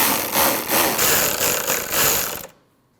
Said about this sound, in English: Now install your two 8mm bolts, and then tighten those two bolts